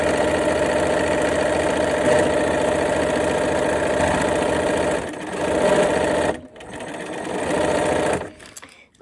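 Sewing machine stitching scrappy quilt pieces, a steady close mechanical whir with a dense rapid needle rhythm, running continuously before slowing and briefly stopping near the end.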